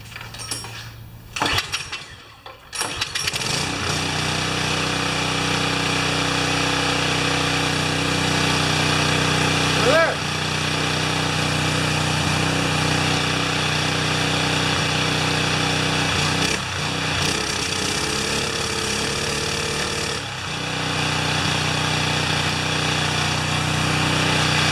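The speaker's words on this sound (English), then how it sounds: "that's about as good as it gets for a Chinese stationary engine" A small Chinese stationary engine on a Karcher pressure washer sputters in a few rough bursts, then catches and settles into a loud, steady running drone for the rest of the clip, with slight dips in pitch.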